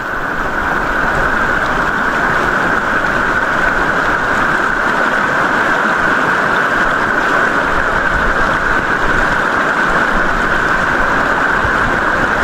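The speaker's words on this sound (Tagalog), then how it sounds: "Lakas ang agos din, no?" Strong current of a river in Norzagaray, Bulacan, a loud steady rushing wash of water that stays constant and close throughout, with no voices.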